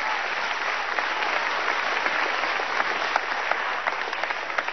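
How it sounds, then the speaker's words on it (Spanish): Dense, steady applause from an audience at a Venezuelan televised interview program, even and continuous throughout with no voices rising above it. "Un aplauso,"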